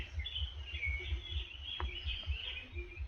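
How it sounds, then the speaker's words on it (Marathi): Faint bird calls and chirps drift in from a distance over a soft, pulsing low rumble during light drizzle in a Konkan village, with no voices. "आणि पक्ष्यांची किलबिलाट"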